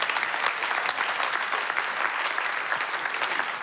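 A church audience applauds in a dense, continuous burst of clapping that holds steady from start to finish at moderate volume, with no talk over it.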